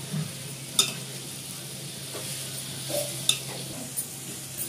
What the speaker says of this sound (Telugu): కొంచెం మసాలా వేగాల, పచ్చి వాసన పోయిందాక.